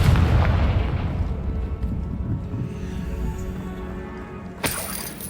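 A Confringo blasting spell in Hogwarts Legacy sets off a heavy, rumbling explosion that rolls and slowly fades, and a sharp crack bursts out near the end.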